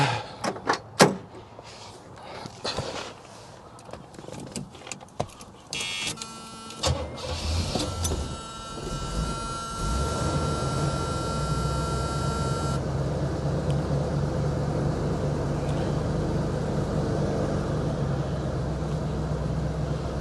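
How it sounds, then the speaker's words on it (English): A 1977 Pontiac Firebird Esprit is started: clicks and mechanical clunks as the key goes in and the starter engages, then the engine catches and settles into a steady, fairly loud idle that continues to the end. "Okay, let's just see if the car's going to fire up."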